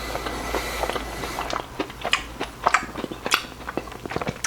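Close, crisp biting and chewing of a Krispy Kreme Oreo cookies and cream doughnut, a run of soft crunchy bites and mouth sounds at low volume with no talking.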